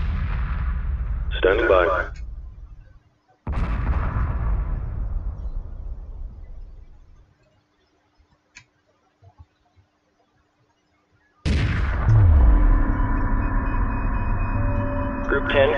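Space battle weapons fire in Homeworld 2 Remastered, with dense crackling and booming bursts that come in loud blocks, drop out into near silence and then return, while a brief radio-style voice sounds between them.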